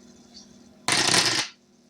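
Rock-paper-scissors dice are rattled and shaken in a hand: one close, bright clatter lasting about half a second, with quiet room tone before and after and no voices.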